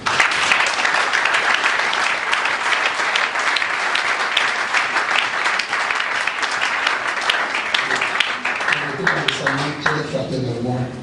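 A church congregation applauds continuously, dense and loud, with voices and shouts mixed in and a sung or spoken voice emerging near the end.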